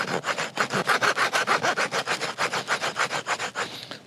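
The rasp-toothed spine of a Camillus Swedge knife scrapes back and forth on wood to make tinder, giving a fast, even run of about twenty close, raspy strokes.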